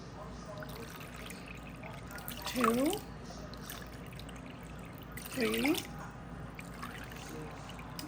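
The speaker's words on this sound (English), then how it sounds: "Let's start adding water." Cups of water poured into kadhi pakoda batter with salt and saunf powder, a soft, steady trickle running low under a voice counting aloud.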